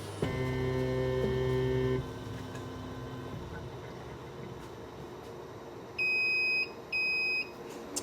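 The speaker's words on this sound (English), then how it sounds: "Once you hear the 2 beeps, the edging cycle is complete." A Huvitz lens edger hums and whirs while edging a -5 sphere lens, then winds down; two electronic beeps follow near the end, clear and evenly spaced, marking the cycle's end.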